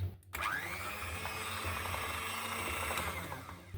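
An electric hand mixer whips homemade chocolate spread made with vanilla, a close, steady motorized whir that starts up and holds evenly for a few seconds.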